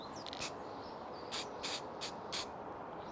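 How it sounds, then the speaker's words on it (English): An aerosol primer spray can coating a Warhammer 40k Space Marine miniature, sounding as about five short, sharp hissing bursts spaced unevenly over a steady low background hum. "I don't feel like I've been spraying that long"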